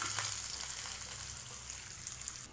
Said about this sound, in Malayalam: എണ്ണ ചൂടായിട്ട് കടുക് ഇട്ട് കൊടുക്കാം